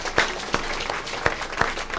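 Mourners applaud at a funeral ceremony, a moderate round of clapping with a few sharper individual claps standing out over the steady patter.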